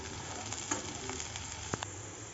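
Bitter gourd frying in oil in a pan, a soft, steady sizzle close by with a few brief clicks and scrapes of stirring.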